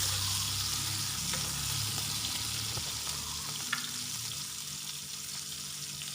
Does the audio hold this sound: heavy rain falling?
no